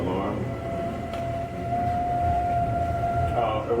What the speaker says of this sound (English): And there's a shallow water alarm.